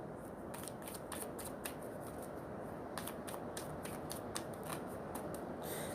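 Oracle cards shuffled by hand in a steady run of crisp, riffling flicks, close and moderately loud over a soft background hiss, with no talking.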